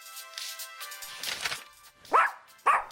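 Two short, sharp dog barks from a cartoon dog in an animated children's read-aloud story, arriving late after soft background music, fairly close and clear.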